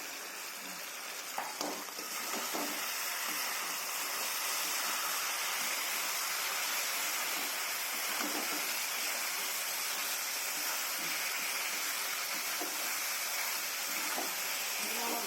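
Steady, loud sizzling hiss of taro and potato frying in oil, continuous throughout with a few faint clinks.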